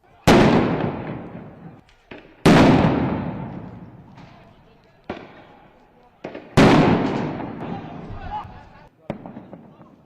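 Police fire guns and tear gas shells at protesters: several loud, sharp booming blasts ring out a few seconds apart, each with a long echoing decay, with fainter pops in between.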